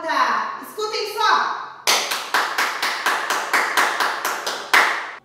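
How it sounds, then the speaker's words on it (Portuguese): Loud hand clapping in a nursery class, about a dozen sharp, evenly spaced claps following a few moments of a woman's sing-song talk. "Essa palma pode ficar mais alta."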